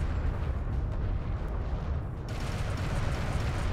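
In the strategy game Artifact, a turret comes under fire: a dense, continuous rumble of blasts and booming impacts rolls on without pause, loud and heavy in the low end.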